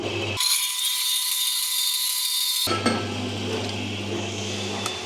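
A 2¼ inch exhaust pipe being cut with a power tool, giving a steady high-pitched grinding whine for about two seconds, followed by metallic clinks and workshop hum.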